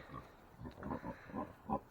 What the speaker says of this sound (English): Here come the pigs, roused from their slumber.